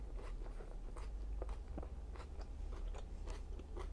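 Crunchy bites and chewing on chicken fajitas, a quick series of close, crisp mouth sounds over a low steady background hum, with no talking.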